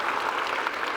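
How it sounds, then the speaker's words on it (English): An audience at a fleet manager conference session claps for two panelists, a brief steady wash of moderately loud applause with no voices. "So a round of applause for John Domowski, Dina Kushaleva."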